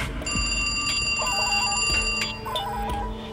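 An old telephone rings loudly in repeated electronic trills over a dramatic music bed, with the ringing pulses recurring in a steady pattern.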